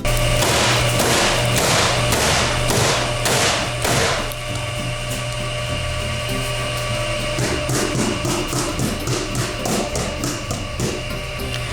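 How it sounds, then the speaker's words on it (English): A tray of freshly piped macaron shells is rapped against a kitchen counter, producing a rapid series of loud, close thuds and knocks that continue in bursts over a constant steady hum. "now after piping our macaron shells, we're going to be wrapping them on the counter to get more of the air out."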